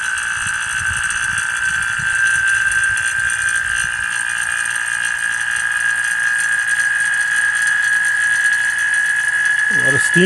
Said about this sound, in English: now I'm ready to start vacuuming the line with a vacuum pump